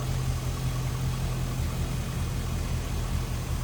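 A 2004 Chevrolet SSR's V8 engine idles smoothly and steadily up close, a low, even rumble with no talking.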